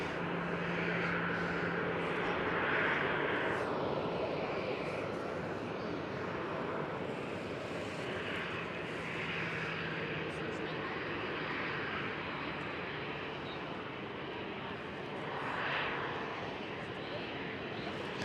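An Air China Cargo Boeing 777 at Schiphol, Amsterdam, rumbles with a broad, steady engine roar at some distance for the whole stretch, with intermittent talk over it.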